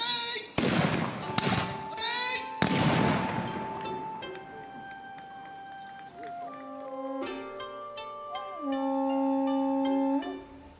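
Samurai-era matchlock guns fired in volleys by a line of ashigaru foot soldiers in a documentary: three loud, booming blasts with long decaying rumbles in the first few seconds, followed by sustained tonal music.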